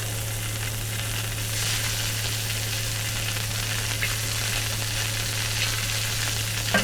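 Meat sizzles and fries on a camp stove at an outdoor valley campsite, a dense, continuous crackle with a low steady hum beneath, close and unbroken, with no voices.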